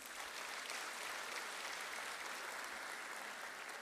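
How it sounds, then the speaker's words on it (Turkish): Audience applauding at a political party congress, a dense, steady wash of clapping from a large crowd holding an even level throughout, with no voices over it. "Ben bir kez daha hep birlikte bu büyük emeği alkışlamaya davet ediyorum sizi."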